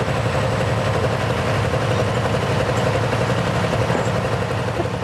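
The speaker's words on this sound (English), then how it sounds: "This tractor's running." A heavy tractor-pulling tractor engine runs continuously with a loud, rough low-pitched drone and no pauses.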